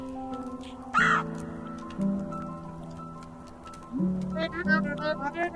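A bird in the video game Celeste caws in a few short, sharp calls, spaced across a quiet stretch with soft game ambience underneath.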